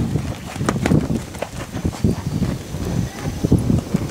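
Hooves of a gelded Lusitano horse, 1.67 m tall, clip-clop in a steady walking rhythm, close and fairly loud, with faint voices in the background.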